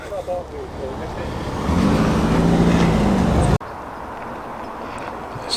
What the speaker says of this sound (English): this incredible rally prepped Ford Escort Mark I, complete with bubble arches